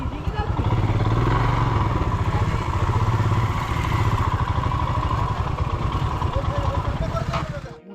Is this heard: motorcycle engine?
yes